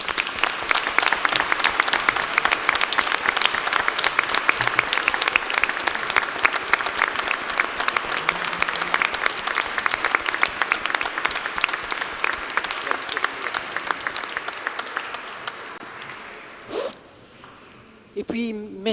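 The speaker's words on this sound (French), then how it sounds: "Je pense qu'on peut tous les applaudir." Sustained applause from an indoor church congregation for catechumens claps steadily for many seconds, then thins out and fades as a voice begins to speak.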